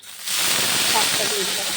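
Garlic frying in hot oil in a home kitchen pan bursts into sound after a brief quiet moment, then settles into a steady, bright sizzling hiss that stays loud to the end.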